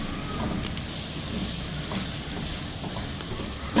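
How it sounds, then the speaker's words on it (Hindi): Gram flour (besan) roasting in oil with spices for Bohri Mohalla style chana batata gives a steady, even sizzle with faint stirring scrapes, continuous throughout. "और साथ ही में हम डाल देते हैं मेजरिंग ½ कप हमारा बेसन, और इसकी हम करते हैं भुनाई"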